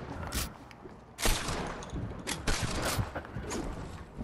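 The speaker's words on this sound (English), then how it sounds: "No, guns are going off." Repeated gunfire in the Fortnite video game, several loud bursts and single shots cracking in quick succession at varying distances over a steady background din.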